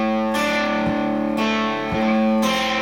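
A distorted electric guitar plays the first bar of a riff, thick ringing chords struck three times at a slow even pace, each left to sustain, loud and alone.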